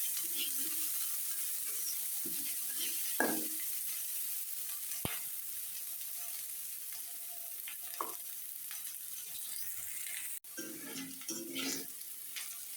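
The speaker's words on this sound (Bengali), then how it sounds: "এখন এগুলো ভালোভাবে ভেজে নেব।" Leftover roti pieces fry in a pan with a continuous loud sizzle, broken by occasional scrapes and stirs of a utensil.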